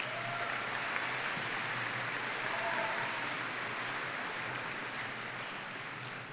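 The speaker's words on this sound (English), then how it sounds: "Can we give them a round of applause" An audience at the 2016 Monona Grove High School commencement gives the school band steady, sustained applause, a dense wash of clapping that holds evenly throughout and eases slightly near the end, with no talk over it.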